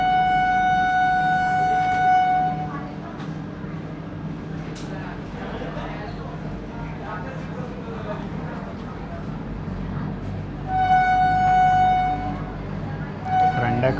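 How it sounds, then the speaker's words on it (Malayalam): Vande Bharat Express 20674, an AC chair car train, pulling out of Pune Junction toward Kolhapur, heard from on board as a steady rumble, with a long loud tonal horn or alert at the start and again near the end. "അങ്ങനെ പുണെ ജംഗ്ഷനിൽ നിന്നും കൊലാപ്പൂരിലേക്കുള്ള വന്ദേ ഭാരത് എക്സ്പ്രസ് ഇവിടുന്ന് പുറപ്പെട്ടിരിക്കുകയാണ്."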